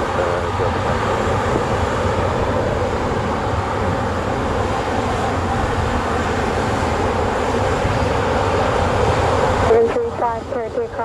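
A jet airliner at Montego Bay airport in Jamaica roars steadily and loudly on takeoff, with a brief voice heard near the end.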